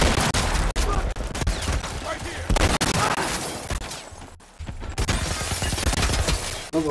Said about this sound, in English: What are they shooting at us with?